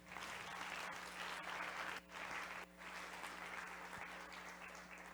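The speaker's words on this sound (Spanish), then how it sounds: "Fuerte el aplauso para él." An audience at a TEDx talk claps steadily for a speaker, a dense wash of applause with two brief dips, over a faint low hum.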